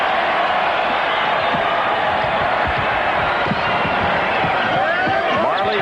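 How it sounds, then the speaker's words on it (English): A large arena crowd at the 1993 NBA All-Star Game in Utah roars loudly and steadily, with cheering and a commentator talking over the din. "And that pleases the Utah crowd"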